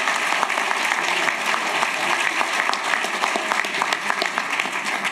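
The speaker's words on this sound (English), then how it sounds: "Let's one more big round of applause for all of our winners," An audience at an early education innovation challenge gives a sustained round of applause for the finalists and winners, steady dense clapping from a room-sized crowd lasting several seconds.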